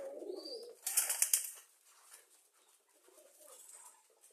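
Domestic pigeons coo softly in a loft, with a brief louder burst of rustling or wing flaps near the start and low murmuring coos after it, heard close by.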